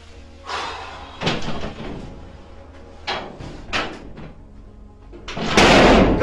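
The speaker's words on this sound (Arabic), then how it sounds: "كسرها كسرها كسر الباب" A door is forced and broken down in a 2019 drama series scene, with several heavy bangs and thuds spread out and a louder crashing burst of impact at the end.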